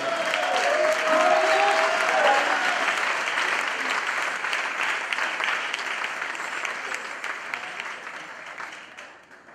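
A church congregation bursts into loud, sustained applause and acclaim, dense clapping with voices calling out beneath, strongest at the start and gradually easing over about nine seconds.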